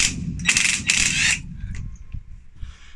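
A ratchet wrench loosens the top bolts of FK coilover suspension on a Renault Twingo: two bright bursts of rapid metallic clicking, close and fairly loud, followed by softer mechanical clinks and scrapes, with no speech.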